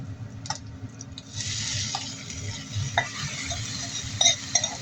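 Stirring chicken necks cooking in 7up in a pot, clattering utensil strokes over a bubbling simmer with a brief sizzling surge, close by and without talk.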